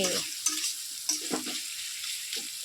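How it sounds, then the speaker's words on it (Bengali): Masala spice paste frying in a pan, with a steady close sizzle broken by the scrapes and knocks of a spatula stirring it, and no voices. "মশলাটা কষানো হয়ে গেছে"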